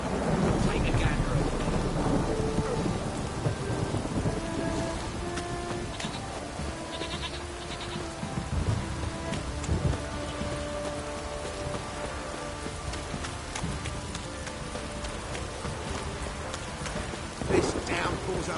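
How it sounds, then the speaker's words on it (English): Heavy rain pours steadily throughout in The Witcher 3 video game, with low rumbling thunder rolling underneath and a sharper crack near the end. "This downpour's a bastard, it is."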